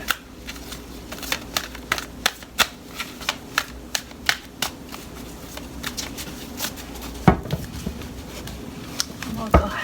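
Tarot cards shuffled by hand, a fast series of crisp riffling snaps at an irregular rhythm, close and distinct, with a sharper cluster of card sounds near the end.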